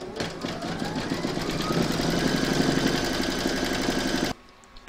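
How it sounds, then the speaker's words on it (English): An embroidery machine stitches a placemat design in a steady, loud mechanical rattle of rapid needle strokes, running continuously for about four seconds before stopping abruptly, with no talking. "Pop your hoop into your machine and stitch round number four."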